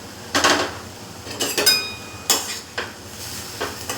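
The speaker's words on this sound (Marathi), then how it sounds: "हे बघा, मी झाकण काढते आता।" A metal pot lid lifted off drumstick-leaf bhaji cooking with dal, giving several close clanks and scrapes of metal in quick, irregular bursts over a quiet kitchen background.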